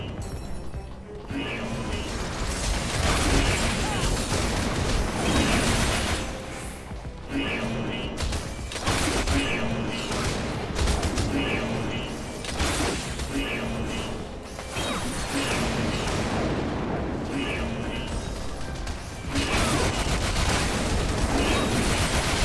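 Incoming gunfire and explosions in Final Fantasy XIV during the Castrum Meridianum battle: repeated bursts of rattling shots and crashes, loud and busy, coming in clusters over twenty seconds with brief lulls between.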